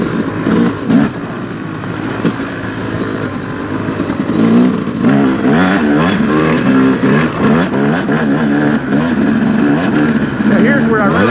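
A 2025 Yamaha YZ250X two-stroke dirt bike revs and pulls hard on an OHV trail, its loud, close engine rising and falling in pitch through repeated throttle surges.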